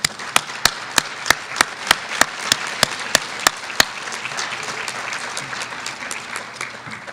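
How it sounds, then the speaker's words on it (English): Applause from an audience at a community unity breakfast, opening with one loud, evenly spaced clapper close by before blending into a steady wash of clapping from the room. "let's give them a round of applause."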